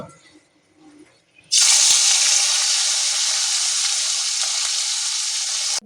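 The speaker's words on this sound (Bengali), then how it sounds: "এখন লবণ আর হলুদ দিয়ে মেখে মাছটাকে ভেজে নেব" Small fish coated in salt and turmeric hit hot oil with a sudden loud sizzle that keeps hissing steadily and close by after a quiet start.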